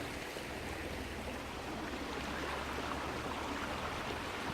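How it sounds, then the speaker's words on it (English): River flowing beside a woodland walking path on the coast-to-coast route near Robin Hood's Bay, a steady broadband rush of running water that stays constant and close throughout, with no talk. "Got the river there beside me."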